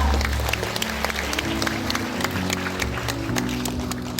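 Audience applause at a Korean elder abuse prevention day award ceremony in a small performance hall, a steady, fairly loud patter of many hands over a low hum, continuing throughout.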